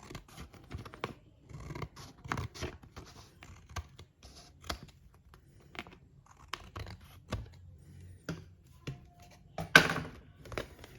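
Scissors snip washi tape and paper in a series of close, crisp clicks and cuts, irregular and fairly quiet, with faint rustling between snips.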